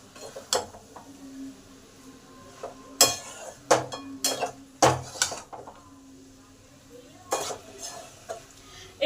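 Bengali cabbage curry made with fish heads being stirred together with coriander leaves, fried spices and ghee in a pan. A spoon scrapes and clinks against the metal in irregular bursts, with a soft sizzle between strokes.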